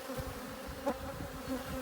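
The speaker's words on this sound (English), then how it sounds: "Yeah, so definitely full of bees." Steady, dense buzzing of many honey bees in a hive, close and continuous, with no voices.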